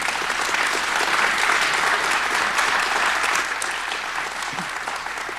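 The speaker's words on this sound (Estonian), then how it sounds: "Aplaus on kohane." At a Rae parish anniversary ceremony, an audience claps steadily and warmly. The applause stays full and even for several seconds, then thins slightly toward the end, with no voices over it.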